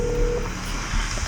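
Telephone dialing tones on a phone call, a steady tone tapering off early over a busy, noisy background with no talk.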